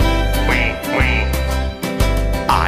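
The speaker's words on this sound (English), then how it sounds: "I'm a duck, and I can swim." A cartoonish duck quacks several times in quick succession, loud and close, with a steady hum of backing music underneath, in a children's English lesson about animals.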